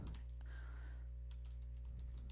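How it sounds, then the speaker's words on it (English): Typing on a computer keyboard: a faint, irregular patter of key clicks over a steady electrical hum, close but quiet, with no speech. "Can you hear my keys?"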